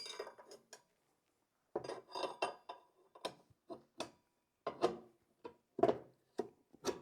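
Metal tire spoons lever an IRC heavy-duty tire onto a small dirt bike wheel, giving a sparse series of close clinks, scrapes and knocks separated by short silences.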